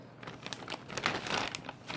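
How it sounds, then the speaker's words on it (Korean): Anti-static plastic wrapping for a motherboard crinkles as it is unwrapped, a steady run of close, dry rustling bursts for about two seconds with no voices. "정전기 방지 비닐에 그래픽 카드 하나 들어가겠는데"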